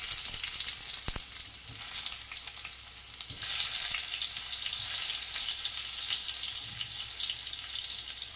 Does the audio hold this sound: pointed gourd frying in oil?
yes